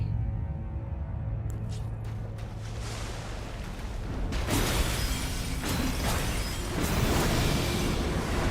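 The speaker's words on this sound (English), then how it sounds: "There was a sudden explosion." A sudden explosion erupts in an Elden Ring boss fight: after low rumbling game sounds, a loud broadband blast bursts in partway through, followed by sustained roaring debris noise and another surge near the end.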